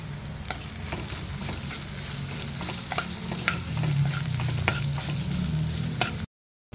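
Fried onions with turmeric, salt and asafoetida are stirred in a pan, a spoon scraping and clicking in irregular strokes over a steady sizzle, ending in sudden silence.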